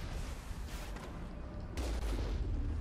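Gunfire in the video game Mass Effect, with a Mako vehicle firing on ground troops: continuous rumbling volleys of shots and blasts, fairly dense and steady, growing heavier toward the end, with no speech over it.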